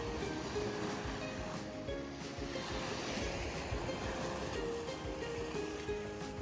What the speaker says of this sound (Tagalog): Medyo malakas din ang alon ngayon.